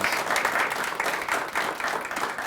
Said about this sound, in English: Let's give him a round of applause if we could